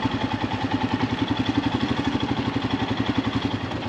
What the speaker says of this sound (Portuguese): Gostei demais de andar nessa moto